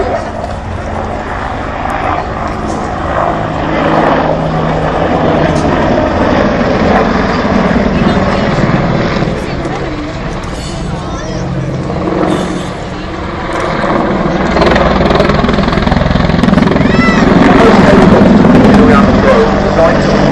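Apache helicopter flying a display at the 2012 Farnborough Airshow, a loud continuous rotor and engine roar that swells and holds, with an announcer's voice running over it.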